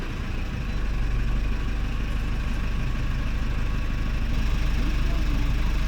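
A Nissan Caravan van's engine idles steadily and loudly up close after starting, a continuous low rumble with a slight rise in level near the beginning.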